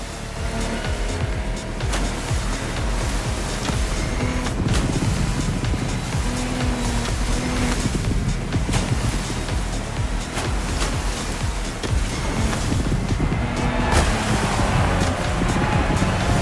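Lamborghini Technomar speedboat in The Crew Motorfest racing game, its engine droning steadily while water rushes and splashes around the hull through a long continuous run.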